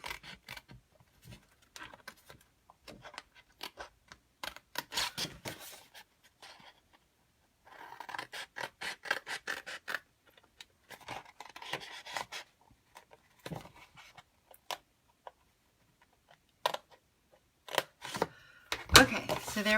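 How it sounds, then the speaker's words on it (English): Paper sheets being cut for a handmade box bag, with intermittent rasping snips and rubbing strokes in short bursts, close and fairly quiet, separated by brief pauses. "I want to make sure I cut on the right one."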